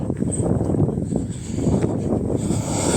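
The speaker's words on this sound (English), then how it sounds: "As you can tell, the wind's starting to pick up." Wind buffets a microphone outdoors in a steady, rough low roar with gusty swells and rustling over the whole stretch.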